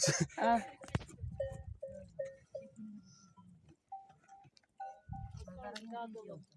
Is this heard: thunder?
no